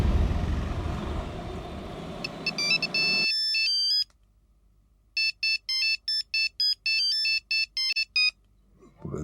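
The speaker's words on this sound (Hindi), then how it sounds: "हम फोन करके देखते हैं उसको।" A telephone ringtone plays as a repeating electronic melody, first over loud background rumble, then after a pause in a clear series of evenly spaced bursts in a quiet room.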